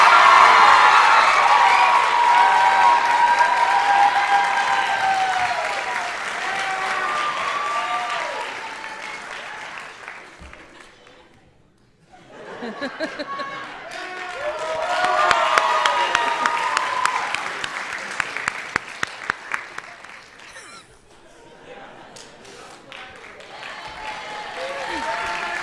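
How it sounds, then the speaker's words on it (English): Sustained crowd applause at an awards ceremony for an award winner, with cheering and whoops rising over the clapping, a brief lull midway, then a second loud swell of clapping with scattered voices. "We have had a lot to clap about."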